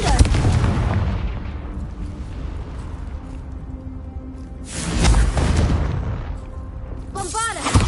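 Confringo fire spell explosions in the game Hogwarts Legacy, two loud booming blasts with rumbling tails, followed by a brief whooshing magical sweep at the end.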